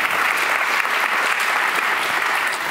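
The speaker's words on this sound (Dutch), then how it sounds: "Geef er een warm applaus." An indoor audience claps warmly at a cultural talk event, dense and steady applause filling the whole stretch at a fairly loud, even level.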